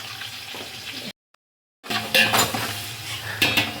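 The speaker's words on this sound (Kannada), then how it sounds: "ಈರುಳ್ಳಿ ಬೇಯ್ತಾ ಇದೆ." Onions frying in a pan with salt and turmeric for chicken biryani, a steady sizzle with scraping stirs and utensil clatter, cut by a short silent gap before resuming louder.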